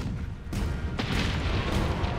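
Cannon fire in the Monster Hunter World video game, with sharp booming blasts at roughly half-second intervals followed by rumbling noise, loud and close.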